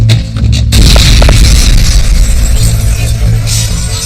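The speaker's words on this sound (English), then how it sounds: "A deafening explosion shook the entire street, shattering windows and throwing sleeping residents from their beds." Dynamite explodes on a city street outside the home of U.S. Attorney General A. Mitchell Palmer: a very loud, sharp blast followed by a long, heavy rumble and debris noise that slowly fades.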